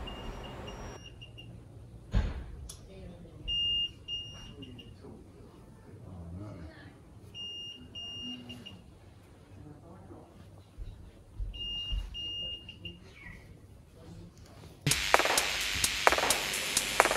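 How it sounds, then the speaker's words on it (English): Several short bursts of steady electronic beeping come from a gold detector swept over a finger ring during prospecting in Australia. The tones repeat at intervals under faint voices and handling noise, and a loud broadband rush arrives near the end. "you guys can hear it is making more beep noise when he is scanning over his ring in the finger"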